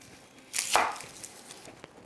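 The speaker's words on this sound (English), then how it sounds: "Then for the garlic, I would chop it finely." A single knife chop through garlic on a cutting board, a short crisp thud with a brief tail, fairly close and quiet.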